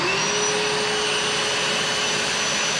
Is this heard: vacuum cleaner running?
yes